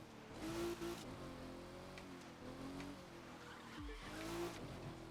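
A race car in The Crew 2 video game speeds up Pikes Peak, Colorado, its engine droning steadily with shifting revs while tires squeal in short bursts through the corners, fairly quiet overall.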